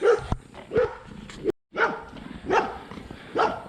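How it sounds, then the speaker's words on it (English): A dog barks repeatedly in sharp, loud bursts at close range, with a brief pause in the middle before several more barks follow. "this dog just needs a friend, man"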